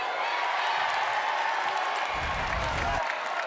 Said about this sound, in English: So cheers, jeers from the crowd